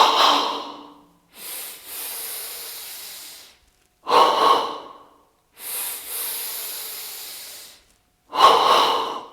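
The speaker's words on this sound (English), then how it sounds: "So now the breath goes deeper, throwing off the tension with each exhale." Slow, deep breathing during a live yoga session, with loud close-up inhales alternating with long, airy exhales in an even rhythm, separated by short silences.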